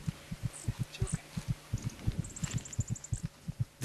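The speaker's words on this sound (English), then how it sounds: "The kitten's heartbeat is a fast 170 beats a minute." A mountain lion kitten's heartbeat pulses rapidly, at about 170 beats a minute, as a steady run of soft, close thumps. Faint high chirps can be heard in the background.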